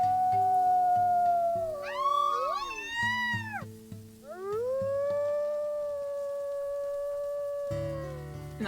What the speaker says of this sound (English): I'm gonna go ahead and howl for the babies.